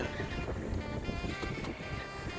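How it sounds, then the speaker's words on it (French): A small First 22 sailboat out on the ocean, sailing with wind and waves coming from the side; a steady wash of water and wind noise runs throughout, with rocking hull sounds and no clear talk. "Là, on est vent de travers. Et on a les vagues de travers. Ça gigote un peu"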